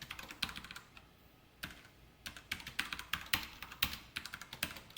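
Java code is typed on a computer keyboard in quick bursts of close key clicks, with short pauses between runs of strokes and no voice.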